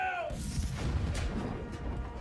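Heavy warship cannons fire in a deep rolling boom followed by a rumbling tail, low and muffled at a distance, with a voice briefly heard at the start.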